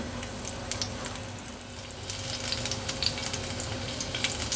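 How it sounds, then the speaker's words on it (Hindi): Finely chopped garlic, two cloves, sizzles steadily in about two tablespoons of hot desi ghee in a frying pan, a dense close crackle with scattered pops and no talking. "घी गर्म होने के बाद मैं इसमें 2 लहसुन के जवे लिए थे, उसको बारीक काट के इसमें डाल दूँगी।"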